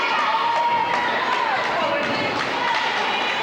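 A high school volleyball crowd with the football boys cheering in the stands, a continuous loud roar of voices and shouts in a gym, with an announcer talking over it.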